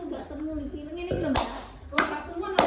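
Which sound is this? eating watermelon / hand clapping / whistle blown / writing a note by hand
hand clapping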